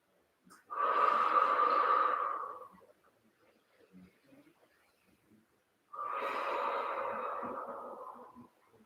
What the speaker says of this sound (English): And we breathe.